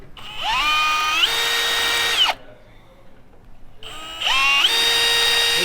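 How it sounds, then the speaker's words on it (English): Electric drill re-drilling bolt holes in a turbo flange for a new T25/T28 turbo swap on a Corvair, two long whining bursts with rising pitch separated by a short quiet pause, close and loud. "We gotta re-drill these holes so that that new turbo will fit."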